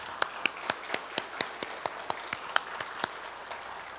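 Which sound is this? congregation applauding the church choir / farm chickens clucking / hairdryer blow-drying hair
congregation applauding the church choir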